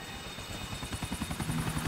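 A helicopter in GTA IV spooling up, its rotor chop growing into a fast, even pulse over a whining engine, close and loud, with no talking.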